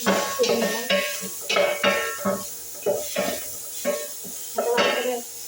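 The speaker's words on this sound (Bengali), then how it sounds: "একটু ভেজে নিলাম" Chili and spices frying in a pan, with rhythmic scraping and clinking stirring strokes over a light sizzle, about seven strokes spaced roughly evenly and heard up close.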